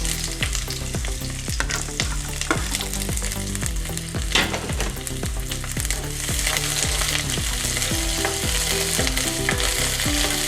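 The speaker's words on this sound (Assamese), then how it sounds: "পিঁয়াজখিনি ৰঙচুৱা হোৱালৈকে ভাজি ল'ম।" Onions and chillies fry in hot mustard oil in a wok, sizzling loudly and continuously. A spatula stirs them with regular scraping strokes about once a second. No voices.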